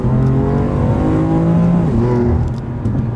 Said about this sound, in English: This thing shifts really hard